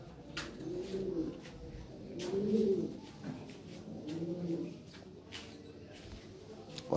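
A blue checker pigeon, a new adult, gives soft, rolling coos in three or four repeated bouts, moderately close but fairly quiet, with faint clicks and background noise and no talking.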